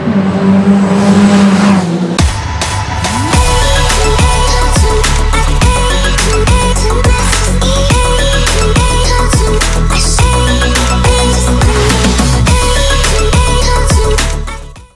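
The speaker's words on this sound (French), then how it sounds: "Pas moins de 50 autos étaient présentes sur la piste gardoise" Caterham 420R and Roadsport race cars lap the Pôle Mécanique d'Alès circuit during pre-season testing, a loud continuous engine roar with repeated rising and falling pitch sweeps from cars passing one after another.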